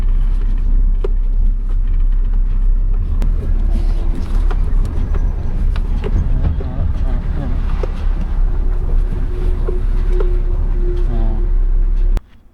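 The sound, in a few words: 12-wheel Tata Prima truck being parked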